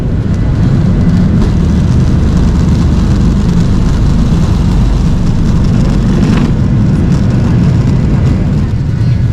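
A loud, unbroken jet roar fills an aircraft cabin as the plane takes off for Thailand, a dense low rumble with no pauses.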